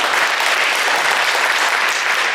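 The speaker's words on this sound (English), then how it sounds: "Go ahead and give your friends a round of applause" A high school post-prom show crowd gives a round of applause, a loud, even wash of many hands clapping together that continues without a break.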